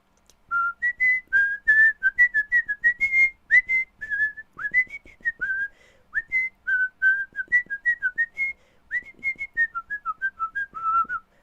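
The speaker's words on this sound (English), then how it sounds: "I like to whistle. I whistle all the time." A person whistles a tune alone, clear bright notes in short phrases with brief pauses between them, close and steady over several bars.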